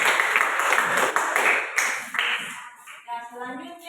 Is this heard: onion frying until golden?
no